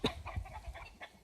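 Backyard chickens cluck softly in a quick run of short, close notes with no talking.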